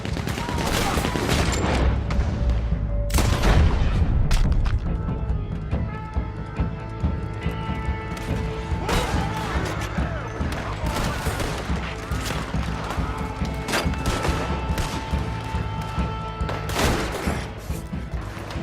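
Gatling gun fire in Red Dead Redemption 2 during a bank shootout, dense rapid bursts and heavy booms mixed with other gunshots and crashes, loud and continuous over about eighteen seconds.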